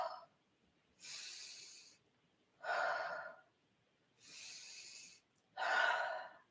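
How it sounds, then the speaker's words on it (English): Four heavy exhaled breaths let out slowly during a relaxation exercise, each a long airy whoosh lasting about a second, evenly spaced with quiet pauses between, close and fairly loud. "we're going to let out some breaths"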